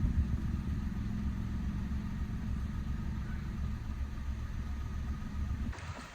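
Peugeot 107 three-cylinder engine idling just after a coil pack fix, a steady low thrumming rumble heard close up and continuous for about six seconds before cutting off abruptly near the end.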